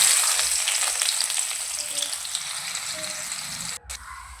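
Chopped onions with seasoning seeds fry in hot oil in a pan, making a steady bright sizzle up close that tapers slightly, with no talk.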